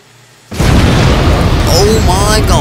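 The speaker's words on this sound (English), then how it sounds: "Who planted a bomb in there?" A bomb goes off in the Roblox game Entry Point: after half a second of near silence a loud, sustained explosion roars and holds steady, with faint chirping tones rising over it toward the end.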